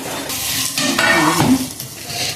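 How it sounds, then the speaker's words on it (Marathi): A lid lifts off a pan of stuffed green chillies cooking over a low gas flame, releasing a short clink followed by a steady, close sizzle of oil that carries on alone. "पाच मिनटं झालेली आहे आपण आता झाकण काढूया"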